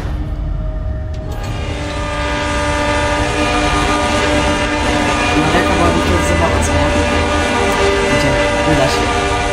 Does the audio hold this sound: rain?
no